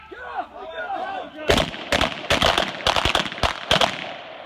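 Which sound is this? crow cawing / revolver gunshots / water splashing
revolver gunshots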